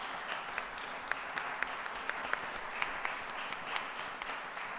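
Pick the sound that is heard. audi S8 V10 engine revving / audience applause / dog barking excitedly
audience applause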